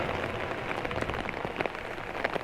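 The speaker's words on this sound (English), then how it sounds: "have a first-hand experience of what it's like when it rains here" Steady rain pours onto the stormy seafront at Paphos, Cyprus, a dense close hiss of drops hitting hard surfaces, fairly loud and even, with no voices.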